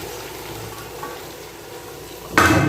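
Fried okra and onions tipped into a simmering yogurt masala: a steady low sizzle and bubbling through most of the moment, then a sudden louder burst of hissing and splatter near the end as the vegetables land in the pot.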